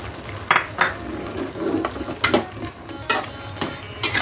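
Capcay vegetables with celery and spring onion stirred in a pan, a spatula scraping and clinking against the metal in irregular strokes over a soft sizzle, close and with no talking.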